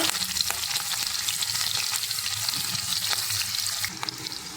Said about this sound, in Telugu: ఆయిల్ హీట్ అయింది. ఇప్పుడు ఉల్లిగడ్డ ముక్కలు, పచ్చిమిర్చి ముక్కలు వేసుకున్నానండి.